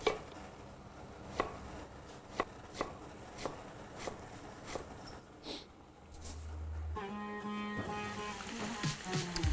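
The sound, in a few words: chopping an onion with a knife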